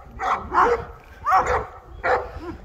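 Puppies on a farm barking in short yappy bursts, three clusters of high-pitched yips and bow-wows close to the microphone with brief gaps between.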